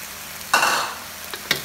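Pork and young chillies being stir-fried in a pan: a sudden sharp sizzle as food is tossed, fading quickly, followed by two brief scraping strokes of the spatula.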